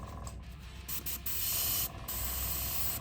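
An airbrush spraying thinner with blowback, a close, steady hiss that cuts in and out in short bursts before holding as a continuous spray.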